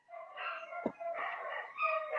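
Several dogs bark and yelp in a busy, overlapping burst close by, continuing for about two seconds with a sharp low thump midway, no talk.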